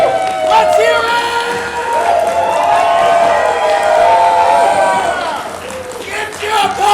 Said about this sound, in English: Give your applause!